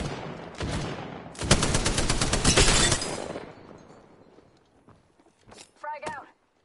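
Rapid automatic gunfire bursts in Apex Legends, a short volley followed by a longer loud rattling stream that fades into footsteps and game sounds, with a voice speaking near the end.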